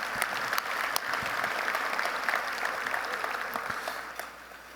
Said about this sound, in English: Please give them a round of applause for their support of the arts.